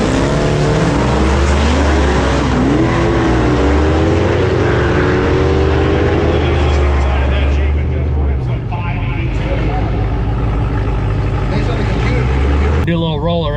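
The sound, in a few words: 1000HP Trackhawk racing a Hellcat Challenger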